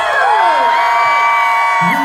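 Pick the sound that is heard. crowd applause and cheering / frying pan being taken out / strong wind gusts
crowd applause and cheering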